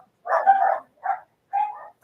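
Three short dog barks or yips close to the microphone, a longer first one followed by two quicker ones separated by brief silences.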